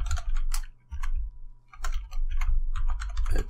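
Computer keyboard clacking as code is typed, close and crisp, with quick runs of keystrokes broken by short pauses.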